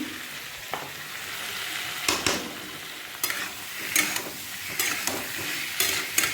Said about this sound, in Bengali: এখানে একটু টমেটো দিয়ে দিচ্ছি আমি